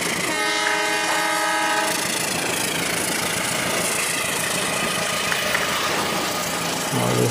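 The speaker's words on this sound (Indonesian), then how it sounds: "kereta api si biru sudah melintas" A blue toy train rolls along its tracks with a steady rumbling clatter of wagons and a sustained horn-like tone, loud and close throughout.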